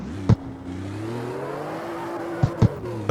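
A car engine revs steadily around a racetrack in a driving video game, its harmonic drone rising and falling, with a few sharp thumps from tyre impacts or shifts breaking in near the start and end.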